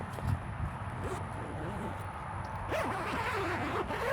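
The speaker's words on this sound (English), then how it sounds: "we're going to start by unzipping our zipper" Zipper on the bag cover of an MDC XT9 RV awning being pulled open, a faint steady rasping drag running under a quiet voice outdoors.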